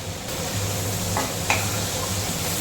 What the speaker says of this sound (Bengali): কুচনো পেঁয়াজ ফোড়ন দিলাম